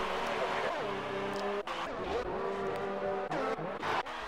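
A race car passes the final corner in a racing video game at Great Britain, its engine whining and shifting pitch as it changes gear, loud and close, with brief dips and a commentator speaking over it.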